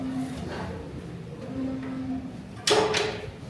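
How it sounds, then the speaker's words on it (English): A cow moos in the background several times, drawn out and moderately distant, with a sudden clunk near the end and no talking. "I don't want to listen to the cow in the background"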